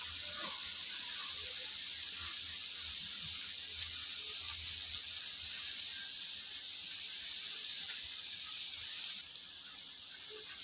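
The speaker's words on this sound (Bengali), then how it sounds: "এইভাবে লাল লাল করে ভেজে নিতে হবে।" Eggplant fritters (beguni) frying in hot oil, a steady sizzling hiss that holds evenly throughout, close and fairly loud with no talk over it.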